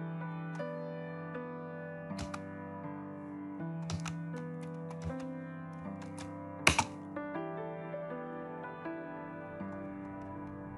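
A Gmail address is typed on a computer keyboard: sparse, sharp key clicks and a few clustered taps over a steady tonal background hum.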